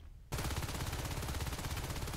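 Rapid automatic gunfire in the video game Natural Selection 2, a dense unbroken burst that starts suddenly after a brief quiet lead-in and holds loud and steady to the end.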